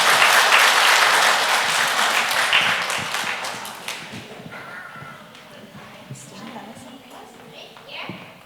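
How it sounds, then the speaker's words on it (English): A crowd at a kindergarten celebration claps loudly at first, then the applause gradually thins and fades, leaving scattered claps and faint voices. "feel free to applaud after each one."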